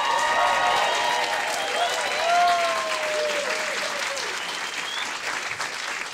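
Audience applause at a 10th anniversary concert held in a theatre venue, a steady wash of clapping with a few voices calling out and faint sustained tones over it, fading slightly toward the end.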